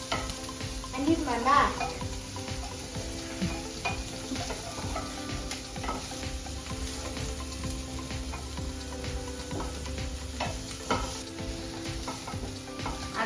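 Chopped onions fry in very hot oil with a steady sizzle and scraping stirs and clinks of a utensil against the pan, while a person speaks briefly near the start.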